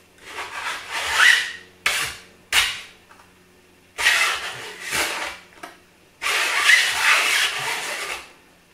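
A homemade wooden camera slider rail rubbing and catching as it is pushed, giving rough scraping rasps in several bursts with brief sharp knocks between strokes, close and fairly loud with no talk.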